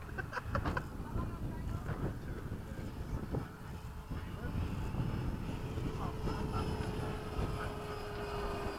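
A Freewing 90mm F-15 RC jet with a stock inrunner ducted fan flies with a steady, broad whooshing roar that rises and falls a little as it passes, under light wind noise at the field.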